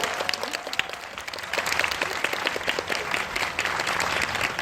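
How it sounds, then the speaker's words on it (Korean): Warm applause from a cinema audience of about 280 at a film talk event, with distinct individual claps rising out of a steady roar that holds for several seconds without speech. "그래서 먼저 큰 박수로 한번 다시 기운 좀 받으라고."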